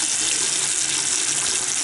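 A bathroom cabinet sink faucet runs with strong water pressure, giving a steady, close, unbroken rush of water from start to finish with no talking.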